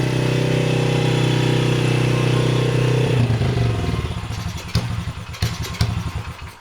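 An old motorcycle engine running on choke drones loudly and steadily, then begins to stumble and sputter into uneven, clattering pulses as it falters. No one speaks.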